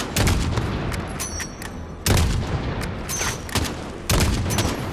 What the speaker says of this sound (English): I'm shooting as many as I can